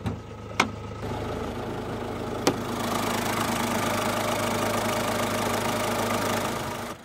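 A 2018 Citroen C3's 1.5-liter turbo diesel inline four-cylinder engine idles steadily with a low, even rumble, close by, with a couple of sharp clicks near the start.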